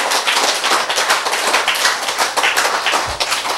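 A crowd claps hands together in a dense, steady round of applause that runs evenly throughout and stops near the end, with no talking.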